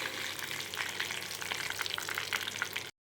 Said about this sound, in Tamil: ஒரு காஞ்ச மிளகாய் போட்டுக்கிறேன். அது பொரிஞ்சதும் கருவேப்பிலையை போட்டுக்கிறேன்.